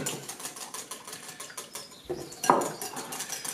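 Hand whisk beating mayonnaise with oil in a bowl, giving a rapid, steady clatter of metal against the bowl that continues close up throughout.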